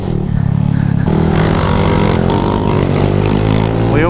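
A Honda DAX small motorcycle fitted with a custom fuel tank runs close by while being ridden, its engine revving up with a rising buzzing drone and a light rattle.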